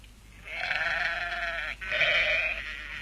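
Sheep and goats from grazing flocks in Turkey bleat in two long, wavering calls, the first steady for over a second, then a brief pause before a second strong bleat; moderately close, with no talking.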